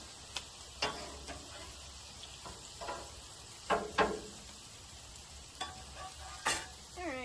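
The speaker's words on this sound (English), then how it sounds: "Classic stir fry technique." Meat stir-fries in a pan, a quiet sizzle punctuated by repeated scraping and clattering strokes of a spatula at irregular intervals. No talking.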